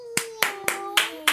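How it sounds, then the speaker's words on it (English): Five sharp, separate hand claps ring out at an even, quick pace, close and crisp, while a sustained tone hums underneath. "clapped her hands"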